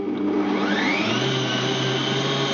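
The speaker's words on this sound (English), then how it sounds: "So break your egg in and just whisk that up as well." Egg being whisked into a date cake mixture for sticky toffee squares, heard as a steady, close whirring drone that holds without a break.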